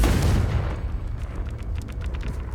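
A Confringo fire spell explodes in the Hogwarts Legacy video game inside a cave: a loud, close, deep blast that rumbles on as a dense roar through the short clip, with no voices.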